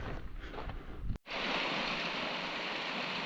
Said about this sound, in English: there's one little waterfall anyway